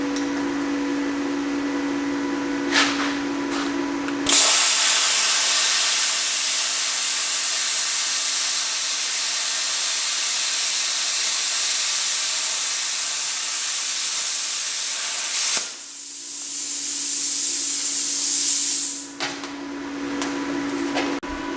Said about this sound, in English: how fast this thing can cut a 1/4 of an inch steel